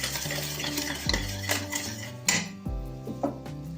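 A spoon stirring a ginger mixture in a pan for laddoos over a low flame, scraping and clinking against the metal in steady, close strokes with a light sizzle underneath.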